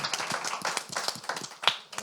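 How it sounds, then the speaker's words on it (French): Scattered clapping from an audience at a conference on African innovative businesses, a modest, fairly quiet patter of hands with distinct individual claps rising and falling over two seconds. "Je voudrais quand même demander de l'applaudir pour son quand même parcours."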